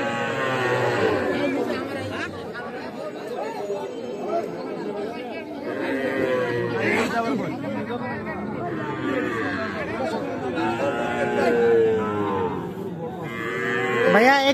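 Cattle mooing at a crowded village cattle market selling young bull and heifer calves, with repeated lowing calls and constant people chatting close by.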